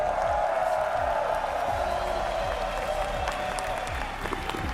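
Dense, steady applause from a large crowd at a live esports event, near and continuous throughout.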